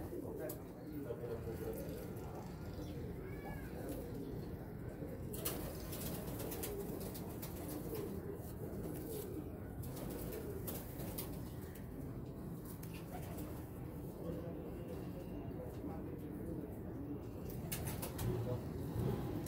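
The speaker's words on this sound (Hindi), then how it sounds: "भरपूर उड़ान वाले कबूतर हैं" Pigeons coo softly and continuously in a loft, with occasional wing flaps and shuffling under someone speaking Hindi-Urdu throughout.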